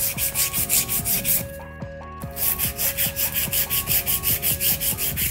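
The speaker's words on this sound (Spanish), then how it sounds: "Con la lima 180 retiramos el exceso de los laterales." A 180-grit nail file rasps back and forth along the sides of a sculpted artificial nail in quick, regular strokes, close and scratchy, pausing briefly midway before resuming the steady rhythm; no one speaks.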